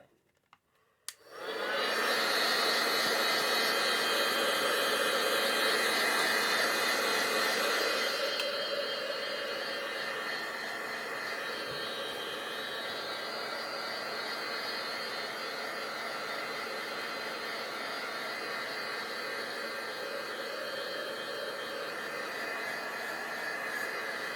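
A hair dryer blows steadily to dry a stenciled paper pillow box craft, a loud continuous rushing whoosh that starts abruptly after a click, eases slightly in level partway through and runs on alone without talk.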